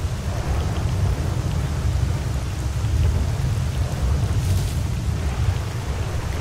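Steady heavy rainfall with low rumbling thunder in the game S.T.A.L.K.E.R.: Call of Pripyat, a dense continuous wash of rain over a deep rolling bass, with no talking.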